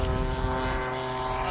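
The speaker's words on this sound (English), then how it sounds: "The big Jug is on the takeoff roll." An RC model P-47 Jug warplane rolls for takeoff at an RC air field, its propeller engine droning steadily and loudly with a strong tonal whine, close and continuous throughout.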